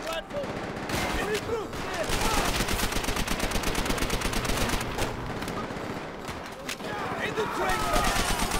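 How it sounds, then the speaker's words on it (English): Rapid automatic gunfire and overlapping shots from the PC game Call of Duty: World at War, dense and continuous throughout, with faint voices underneath. "I've shot you in the gut 7 times"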